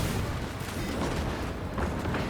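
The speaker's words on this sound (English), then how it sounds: "Grenade out." A grenade explodes in a video game, a loud, rumbling blast whose dense roar fills the whole short stretch without fading.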